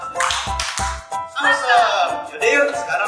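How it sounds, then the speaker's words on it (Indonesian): Two quick hand claps ring out close together from a kids' church online service, followed by a leader talking. "Give me two awesome clap"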